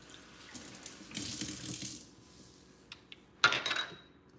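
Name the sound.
pouring blight seed bitters into a shot glass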